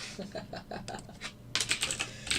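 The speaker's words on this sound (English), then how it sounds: "Yeah, Legacy, I'm glad you like my typing skills." Rapid typing on a computer keyboard, with keys clattering in uneven bursts that grow louder and denser partway through.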